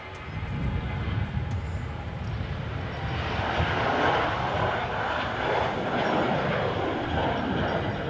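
A fixed-wing airliner landing at Melbourne Airport, its engine roar loud and continuous, swelling slightly as it passes close by with no voices over it.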